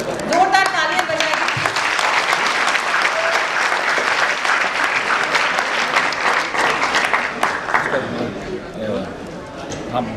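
Loud applause fills an auditorium at an awards ceremony, a dense wash of clapping that holds strong before fading in the final seconds.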